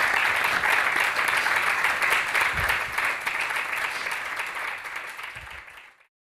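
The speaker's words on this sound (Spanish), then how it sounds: "darle un aplauso y darle las gracias" Audience applause for Gualberto García at a rock event, a dense, steady roar of many hands clapping that stays loud throughout before cutting off abruptly near the end.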